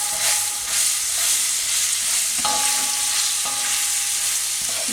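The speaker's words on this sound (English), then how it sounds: "we're gonna add the carrots inside. Just put them all in." Carrots sizzle and fry in hot spiced oil, a steady broadband crackle running throughout with occasional stirring clatter and faint tonal clinks, close and fairly loud, no talking.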